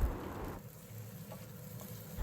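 Half a cup of water poured into hot sambal oil for an Ikan Bawal sambal manis, giving a soft steady sizzle and bubbling hiss with gentle stirring, fairly quiet and without talk.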